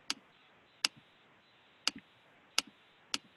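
A computer mouse clicks five times at uneven intervals during an online catalog demo, each sharp click followed by a softer release tick, against a quiet background.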